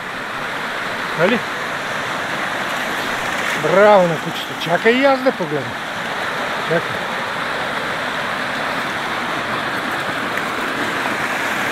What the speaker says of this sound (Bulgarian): Ето силен шум. Реката се чува.